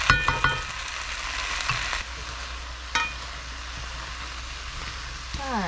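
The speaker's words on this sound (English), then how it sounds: "we are almost done with the 5 minutes of sauteing the vegetables" Vegetables and mushrooms sauté in a pot for salmon chowder, a soft continuous sizzle with a few sharp clinks of a utensil against the pot near the start and again partway through.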